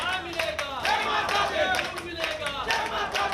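Worshippers clap together after a havan at a Hindu temple, the rhythmic clapping mixed with loud crowd voices calling out close by.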